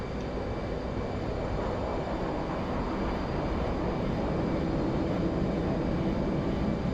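Steady, loud drone of a light aircraft engine in flight, continuous and unbroken from start to finish with no voices.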